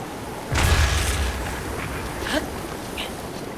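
A bomb explodes to break a barricade in Zelda: Breath of the Wild, one loud, near boom followed by a rumbling tail and a few faint game effects.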